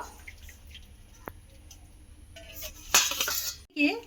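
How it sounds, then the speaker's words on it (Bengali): Boiled water strained off cooked pumpkin leaves, a near splash and pour with clinking of a pot arriving late and loud after a quiet stretch of faint kitchen clatter. "আমি এবারে জলটা ছেঁকে একটা জায়গার মধ্যে তুলে নেব"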